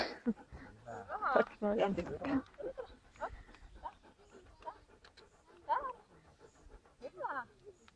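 A dog panting in quick rhythmic bursts close by, with people talking over it at times.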